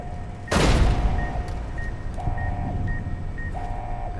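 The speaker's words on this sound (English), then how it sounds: "my collar isn't supposed to be beeping yet" Explosive collar in Fallout New Vegas beeps in short repeated electronic tones after a loud burst, the beeps steady and evenly spaced under game ambience.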